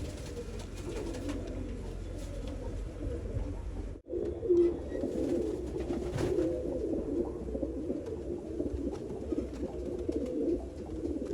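Pigeons coo softly in an enclosure, low repeated murmuring calls scattered through the stretch, faint and fairly close, with a brief dropout partway through.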